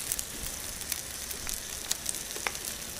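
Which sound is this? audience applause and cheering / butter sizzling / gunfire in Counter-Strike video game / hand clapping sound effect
butter sizzling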